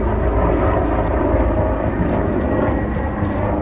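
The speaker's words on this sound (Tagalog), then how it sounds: "Oh, there's airplane." An airplane flying overhead gives off a steady, loud, broadband engine roar that fills the whole stretch without easing, and no voices are heard.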